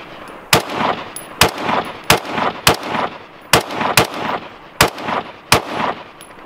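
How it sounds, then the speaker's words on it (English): Eight sharp, heavy .50 BMG rifle shots fired at point blank range, loud and close, spaced roughly every half second to a second, each followed by a brief rumbling decay, with no talking. "I want to do a point blank 50 BMG"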